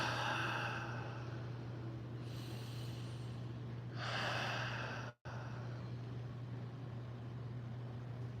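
Slow meditative breaths drawn in and let out during a guided meditation, a few soft airy swells over a steady low hum, with a brief dropout partway through and no talking.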